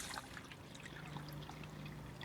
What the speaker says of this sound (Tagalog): Lagay lang tayo dito ng tubig.